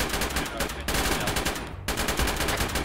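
Gunfire in the military game ARMA: continuous automatic bursts, loud and close, with brief gaps between strings of rapid shots.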